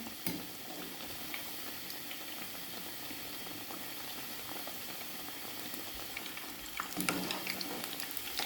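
Potato chip pakoras frying in hot oil over raised heat, a steady close bubbling sizzle that runs evenly throughout, with a brief swell of crackle near the end as the pieces are turned over.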